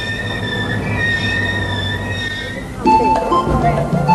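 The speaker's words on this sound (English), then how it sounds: "The last passenger train for all those travelling to Zambia and beyond pulls into Victoria Falls Station." A passenger train rolls into Victoria Falls Station with a steady rumble and high metallic wheel squeals, then brakes hiss and clank loudly as it slows; voices murmur faintly underneath.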